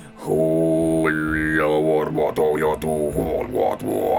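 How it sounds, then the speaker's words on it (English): Kargyyra throat singing, a deep, resonant, growling drone with a strong low fundamental and shifting whistled overtones above it, loud and continuous from a single close voice. "It's deep and resonant, and sounds a bit like metal growl in some cases,"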